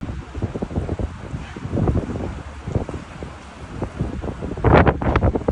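Strong storm wind in Kyiv: loud gusting wind buffets the microphone in uneven surges, rising into a harder blast near the end, with no voices.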